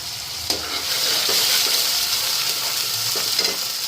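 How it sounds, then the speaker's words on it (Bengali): Spice paste frying and being stirred in a pan, a steady close sizzle with scraping stir strokes throughout, no talk. "মশলাটা ভালো করে ফ্রাই করে নিই"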